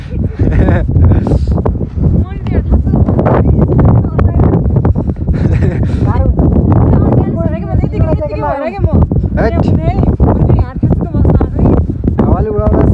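Strong wind in Mustang, Nepal, roaring and buffeting right against the microphone in loud, continuous gusts while a person talks over it.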